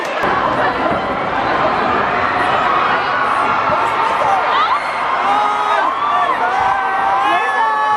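A dense street crowd outside the Met Gala chatters and shouts continuously, with scattered whoops and cheers rising through the steady roar of many voices nearby.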